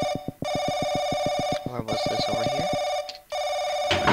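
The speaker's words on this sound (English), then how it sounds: "Oh, okay, that's just a phone." A phone keeps ringing in the game Paranoiac, loud repeated electronic rings with a short break as a voice speaks briefly between bursts, then the ringing resumes nearby.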